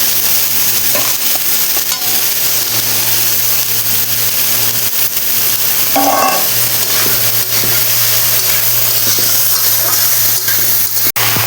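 Boiled banana flower fries in a pan with potato and tomato, giving a steady loud hiss and sizzle throughout, close up, with faint stirring scrapes and one sharp clink near the end.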